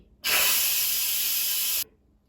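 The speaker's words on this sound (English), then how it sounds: "so let's quick release the steam." An Instant Pot vents steam on quick release, a loud, steady hiss that starts abruptly, holds for about a second and a half, then cuts off sharply.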